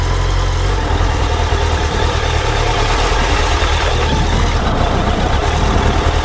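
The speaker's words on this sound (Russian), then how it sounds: "Запускаем двигатель. Двигатель приятно работает." A Suzuki GSF1200S Bandit motorcycle engine idles with a dense, steady rumble close by, loud and unchanging for several seconds, no speech.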